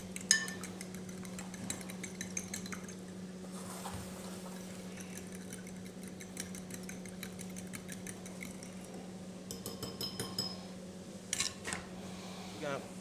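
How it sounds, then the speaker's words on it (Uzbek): Food being mixed with a little salt in a pan, faint scattered scrapes and clinks of a utensil against metal over a low background hum, with bursts of clatter near the end. "Hop, ozgina tuz bilan aralashtirib olamiz."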